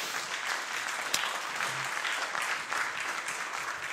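Steady applause from a church congregation at a youth worship service, dense and continuous clapping filling the space for several seconds without talk.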